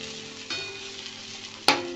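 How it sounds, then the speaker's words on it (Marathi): Onion frying in a pan on a gas stove, a steady close sizzle with a soft scrape of stirring and one sharp clink of a utensil against the pan near the end. "आपला कांदा असा भाजलेला आहे. अजून थोडासा भाजेपर्यंत आपल्याला ठेवायचा गॅसवरती."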